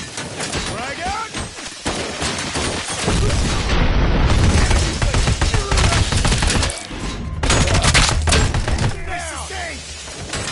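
Heavy booming blasts and rapid gunfire from combat in the Robocop Rogue City video game, including a grenade explosion, dense and loud throughout with game voices shouting over the action.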